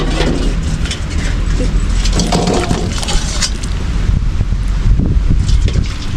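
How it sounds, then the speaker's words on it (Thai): Strong wind buffets a microphone outdoors in rural Thailand, a loud continuous rumbling roar throughout with gusty bursts and faint background sounds beneath it. "บ่ได้ยินแต่เสียงลมเลย"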